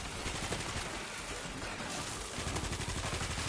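Rapid gunfire rattles almost continuously in the zombie shooter game World War Z Aftermath, a dense, loud spray of shots from several weapons with no pauses.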